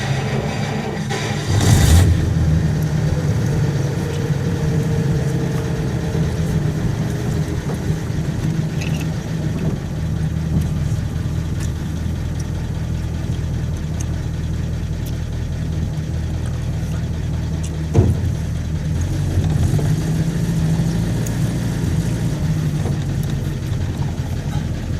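A Buick Roadmaster's engine droning steadily from inside the car while driving, a constant low rumble with road noise and a couple of brief clicks, no talking.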